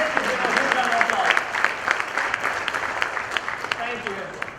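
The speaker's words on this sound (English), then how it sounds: "Let's give them a huge round of applause." A crowd claps in sustained applause, dense and steady with sharper individual claps standing out, fairly close.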